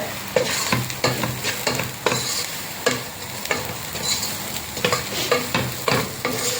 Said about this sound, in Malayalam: അപ്പോൾ നമ്മുടെ ഉള്ളിയൊക്കെ ഒരുമാതിരി വഴന്നിട്ടുണ്ട്.